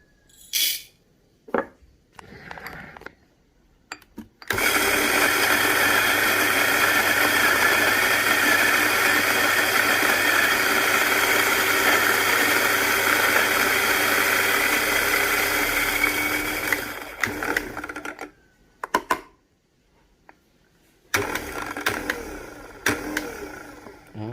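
Coffee grinder grinding house-blend beans: a loud, steady motor whir for about twelve seconds after short bursts and handling clatter, then stopping, followed by more clicks and a brief restart.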